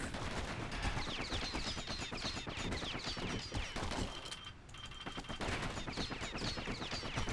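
Rapid gunfire from dueling pistols in the action game Bastion, a dense, continuous stream of shots that briefly thins near the middle before resuming.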